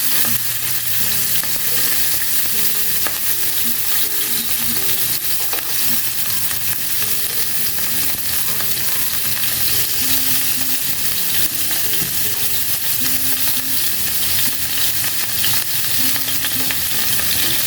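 Food stir-fried in a pan for a dietary Chinese dish, with a steady loud sizzle and frying hiss and the scrape of stirring throughout, close and continuous, no voices.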